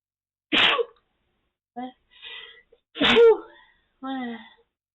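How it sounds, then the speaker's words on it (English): Two loud, close sneezes, each a sharp burst followed by a short voiced trailing sound, spaced a couple of seconds apart. "I had to sneeze."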